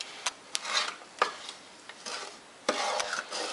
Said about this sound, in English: Now I make sure I always give this a good stir before I turn the heat on.